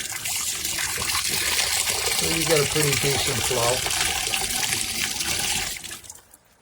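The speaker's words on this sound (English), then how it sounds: "I put these couple valves in to drain water." Water rushes and gurgles steadily as it drains from a valve on a reverse osmosis water filtration system, loud and close, while someone talks over it before the flow tapers off.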